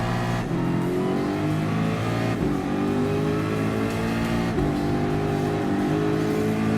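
Group 3 race cars at Suzuka in Gran Turismo Sport roar away from the race start, loud engines revving and shifting up through gears in a dense, continuous pack with no talking.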